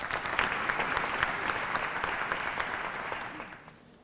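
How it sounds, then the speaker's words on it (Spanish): Audience applause fills a choir concert of Christmas carols, a dense, steady patter of many hands clapping close by, fading out toward the end. "le pedimos un fuerte aplauso a Ana Martínez."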